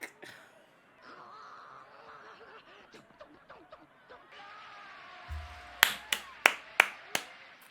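Clapping in a Dragon Ball episode, heard as five or six sharp, evenly spaced claps near the end after a quieter stretch of animated voices and effects.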